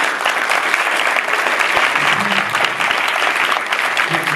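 Loud, dense applause from a festival audience fills the room, a continuous close roar of many clapping hands with a few faint voices mixed in.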